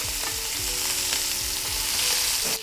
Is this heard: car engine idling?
no